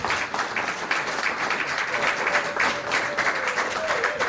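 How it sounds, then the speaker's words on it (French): Sustained applause from a crowd at a 50th birthday celebration in Norway, dense overlapping claps with a faint voice underneath throughout. "Est-ce qu'on ne peut pas applaudir pour sa famille, s'il vous plaît?"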